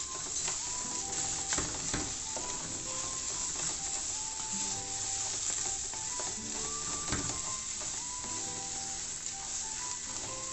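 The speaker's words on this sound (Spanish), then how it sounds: "Meneamos bien. Le ponemos también la cebolla." Yellow rice and onion sizzle and fry in a pan while a utensil stirs and scrapes, a steady close crackle with rhythmic scraping strokes throughout and no talking.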